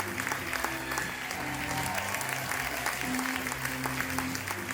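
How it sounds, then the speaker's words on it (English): Audience applause at a high school fashion show, steady dense clapping that fills the whole stretch, loud and sustained with a faint crowd murmur beneath. "Let's give the designers another huge round of applause."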